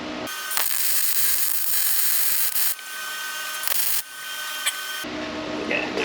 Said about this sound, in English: Okay, I'm going to hit the center plug weld.